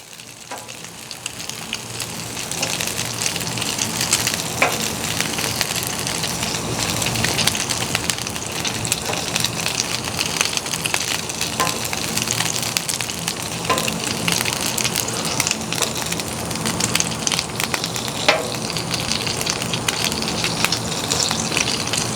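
Meatballs frying in an extra large cast iron skillet on a Blackstone griddle, a steady close sizzle and crackle running throughout, with occasional louder pops and no talking.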